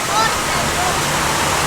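Water from a feature at Prairieville Park Adventure Golf, a mini golf course, rushes and splashes in a loud, continuous, even wash that fills the whole moment.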